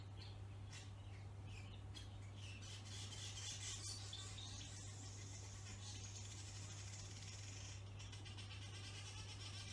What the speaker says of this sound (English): You may be able to hear 2 sounds, a bird and a pool cleaner.